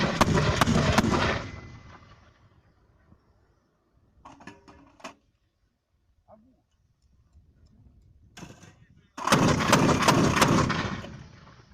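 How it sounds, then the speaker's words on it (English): Bursts from an 82mm automatic mortar in a war zone: a loud multi-round volley, a quieter cluster of shots mid-clip, then another loud sustained burst near the end, with long quiet gaps between. "It's an 82mm automatic mortar."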